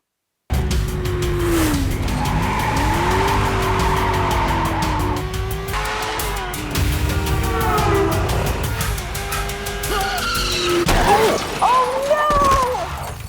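Movie action scene from John Wick: Chapter 2 with a car's tires squealing in repeated long skids over a roaring engine, heard at a steady loud level, ending with harsher bursts of impact noise near the close.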